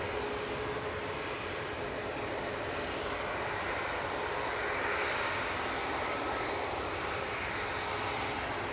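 An airliner's engines roar continuously as it departs Manchester Airport into a low cloud base, a broad, loud, sustained rumble that swells slightly midway and holds with no talk over it.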